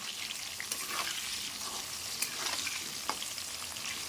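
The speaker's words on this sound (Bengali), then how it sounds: "আগে মাংসর আলুটাই ভেজে নিই তো ওই জন্য এটা ভেজে নিচ্ছি" Potatoes for a chicken curry frying in oil in a kadai: a soft, even crackling sizzle with faint occasional stirring clicks, heard close by without talk.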